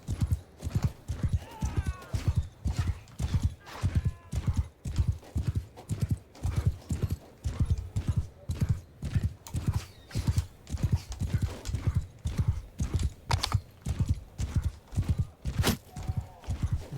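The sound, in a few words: horse galloping in a video game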